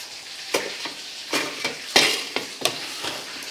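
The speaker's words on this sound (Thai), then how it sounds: "ก็มาปั้นเป็นก้อนนะคะ แล้วก็ ทำการทอดเลยนะคะ" Thai pork patties (tod man moo) frying in hot oil, a steady sizzle with several sharp spatters and stirring scrapes at irregular intervals, close and clear without speech.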